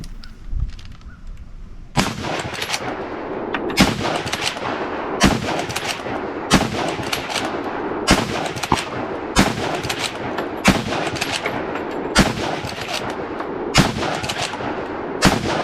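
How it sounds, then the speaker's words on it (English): Single sharp shots from a .303 bolt-action rifle ring out about every one to one and a half seconds, a dozen loud cracks each trailing into echo, with no talking. "This made the 303 the fastest shooting bolt-action rifle of its day."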